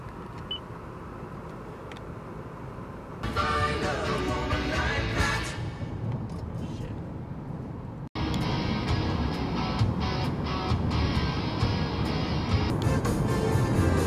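A car drives along a road: steady engine and tyre rumble runs throughout, with a louder, brighter stretch of road noise in the middle and after a brief break near the end.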